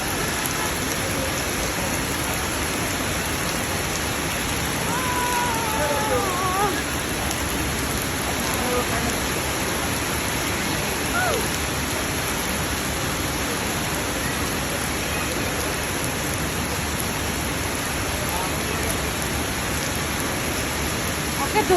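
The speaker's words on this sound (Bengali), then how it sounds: "চলো বৃষ্টিতে ভিজি।" A heavy outdoor downpour keeps up a dense, unbroken hiss of drops for the whole stretch, steady and close with only slight swells in loudness.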